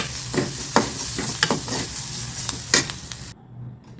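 Seasoning with pepper powder sautéed in a pan for wheat dosai, a steady sizzle broken by repeated scraping stirs, close and clear, fading out abruptly near the end.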